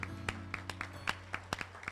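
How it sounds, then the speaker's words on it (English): Sparse, scattered handclaps from an audience at a school all-sports athletic banquet, a dozen or so distinct claps over a low electrical hum, fairly faint. "Let's give them a big round of applause for tonight."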